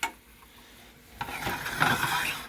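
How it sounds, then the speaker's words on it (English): Shrimp stir-fry is stirred in a hot pan: after a quiet start, scraping and clinking of a utensil against the pan rise over a soft sizzle, close and fairly loud. "now I'm just gonna gently stir it around, make sure everything is spread out and getting cooked"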